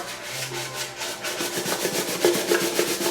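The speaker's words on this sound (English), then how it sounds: "So it's going to give it a quick scrub." Crumbs being scrubbed off an air fryer basket: a steady, close scraping rub in repeated back-and-forth strokes, fairly loud and continuous for about three seconds with no talking.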